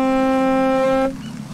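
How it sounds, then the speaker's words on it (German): Ship horn in a sea-rescue boat simulator game, one long loud tonal blast held for about a second before cutting off, leaving a low engine rumble beneath. "Das war Hupen für Rückwärtsfahrt und jetzt sind wir rückwärts raus."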